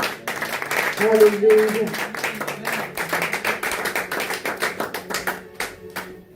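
A church congregation at a French-language service applauds for Jesus, steady rhythmic clapping that carries on throughout, while a voice speaks and sings briefly over it.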